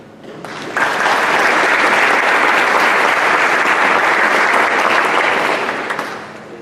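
An audience applauds the school superintendent at a district event, clapping that swells in quickly, holds full and loud for several seconds, then fades near the end.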